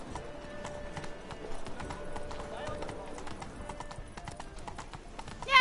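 A horse gallops in The Witcher 3 with a rapid, steady clip-clop of hooves close by, ending in a brief whinny while someone talks over it.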